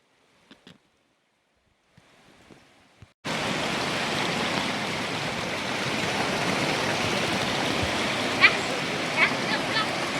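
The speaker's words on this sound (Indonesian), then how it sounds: "Oh, pancuran." A small water spout or waterfall beside a river in open countryside pours with a steady dense rushing hiss that starts abruptly after a few faint knocks and quiet moments, then continues loud and constant.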